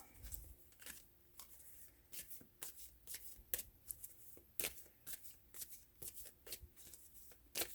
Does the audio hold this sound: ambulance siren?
no